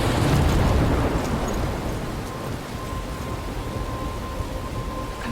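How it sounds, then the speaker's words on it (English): Heavy rain and thunderstorm rumble in the video game Life is Strange, a dense steady roar that is loudest at the start and eases slightly, with no voices. "I'm trapped in a storm?"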